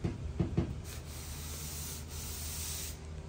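A sanding block rubbing over the primed hood of a C10 truck: a few quick, close scrubbing strokes at the start, then a faint steady hiss, quiet overall with no voices.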